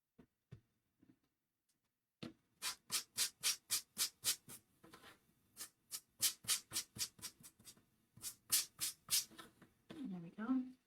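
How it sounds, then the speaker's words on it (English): A sanding block rubs back and forth on a rough-finished craft gnome piece in quick, steady strokes, close and crisp, in three runs of scratchy passes with brief pauses between. "so I'm going to sand it a little bit"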